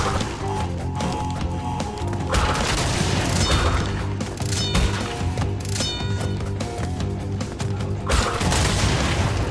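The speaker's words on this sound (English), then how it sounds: "the explosion should be able to get it" Explosions and crashes in a Crash Bandicoot video game, repeated booms and smashes over a busy layered game soundtrack, loud and dense, with bursts spread across several seconds.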